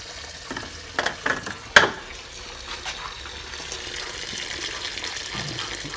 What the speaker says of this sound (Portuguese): Abre a tampa do radiador, circuito, né? E aqui, só de ter aberto, começou a sair um monte de água.